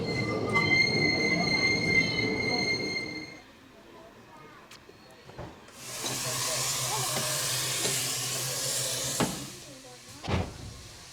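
A Ffestiniog Railway train stands at a station platform bound for Blaenau Ffestiniog. A low engine drone and rail sounds open the scene, a pause follows, then a loud burst of steam hiss sits over steady rumbling with sharp clanks.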